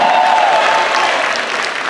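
Audience at a high school graduation ceremony claps steadily, a dense, loud wash of applause that carries through without pause and tapers slightly at the end.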